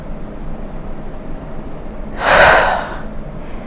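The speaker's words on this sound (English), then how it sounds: "Take a nice big exhale." A single deep exhale during a vinyasa yoga flow, a breathy rush of air that swells and fades in under a second, close and clear over quiet room tone.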